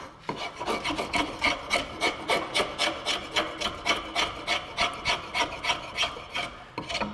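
A rasp or file smoothing the wooden handle of a hand-forged throwing axe, with rhythmic back-and-forth strokes, about two or three per second, heard close and steady with no talking.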